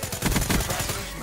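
Rapid automatic gunfire from Call of Duty Black Ops 3 sounds loud and close in a quick burst of repeated shots lasting about a second.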